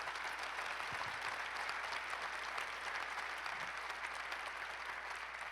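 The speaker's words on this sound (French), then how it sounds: "On va féliciter et applaudir très fort nos participants." Steady, dense applause from an audience at a business network general assembly in Le Mans, clapping continuously and evenly at full strength for the whole stretch without any talk.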